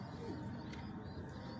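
Madina pigeons kept by a breeder cooing softly, low throaty coos over a faint background hum, brief and quiet.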